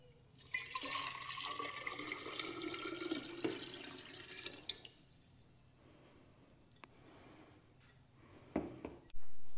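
A quart of water is poured onto scoopable cat litter, giving a faint splashing trickle that fades into quiet, followed by a few soft knocks and a brief louder burst near the end.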